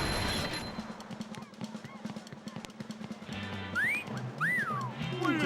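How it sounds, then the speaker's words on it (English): Rising and falling whistle tones in the SpongeBob Battle for Bikini Bottom video game, several sliding chirps near the end over busy game sounds and percussive effects. "Wait a whistle."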